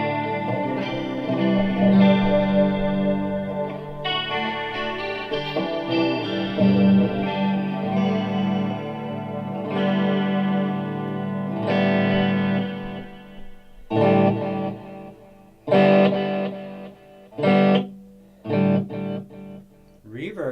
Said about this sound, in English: that's the clean channel on the panel mode